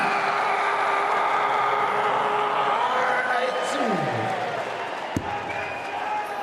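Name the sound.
darts crowd cheering a maximum 180 throw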